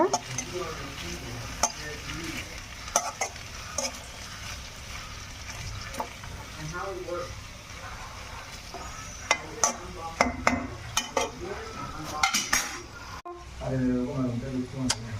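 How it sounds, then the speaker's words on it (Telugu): Broad beans fry in a pan while being stirred, a continuous sizzle with scraping stirs and clinks of the utensil against the pan, close by under a voice talking. "మధ్యలో ఇలాగ కలుపుతూ ఉండాలండి. కలిపితే ముక్కలన్నీ మంచిగా సమానంగా వేగుతాయి అన్నమాట."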